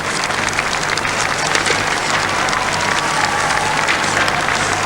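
A large outdoor crowd applauds at a Vietnam veterans parade in Sydney, dense sustained clapping at a steady level with a faint low hum beneath.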